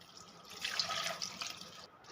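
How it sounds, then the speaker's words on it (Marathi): Water splashes and pours into a pressure cooker holding raw jackfruit pieces, a soft, short stream that rises and then tapers off, fairly close and quiet. "आता यात मी ॲड करणार आहे पाणी"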